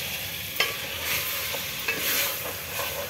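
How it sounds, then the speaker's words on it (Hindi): Chicken tahari mixture with ginger and garlic being stirred and scraped in a pan with the gas turned off, a steady close scraping with faint sizzle and a few sharper clacks of the spoon against the pan, no voices. "गैस बंद करके थोड़ा अच्छे से मिक्स करूँगी"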